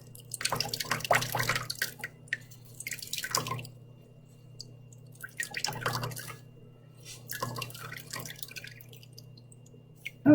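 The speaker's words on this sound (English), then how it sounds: "So I'm squeezing this more than enough juice." Gardenia (zhizi) juice squeezed by hand and dripping into a bowl, heard as several soft, wet bursts of trickling liquid separated by quiet gaps, close and without talk.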